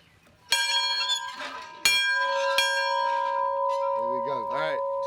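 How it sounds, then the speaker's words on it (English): A bell is struck three times in fairly quick succession, each strike ringing out clearly with a long, sustained metallic tone, and a faint warbling tone rises near the end. "just ring the bell"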